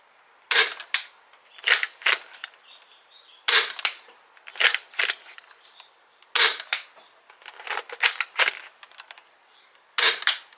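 Dart Zone Pro MK 2.1 blaster firing Pro foam darts indoors, a string of sharp, dry snapping shots in quick bursts and singles, close and crisp with quiet gaps between.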